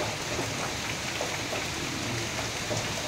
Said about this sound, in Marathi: काय चालू आहे एवढा पाऊस